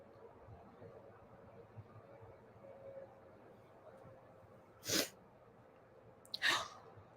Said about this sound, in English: I've just been over here having a sneezing attack.